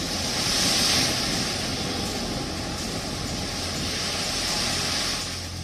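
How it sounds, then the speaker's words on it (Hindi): High ocean waves churn in the sea off Mumbai as Cyclone Biparjoy approaches, a steady loud roar of surf mixed with gusting wind, continuous and close with no voices. "मुंबई के समुद्र में काफी ऊंची लहरें जो हैं वो फिलहाल दिखाई दे रही हैं"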